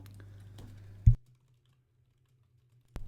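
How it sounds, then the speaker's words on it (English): A computer keyboard clatters with fast, hard keystrokes under a low steady hum, then a sharp loud thump, a pause of near silence and a final loud clack. "That's good dramatic typing there, Boogie."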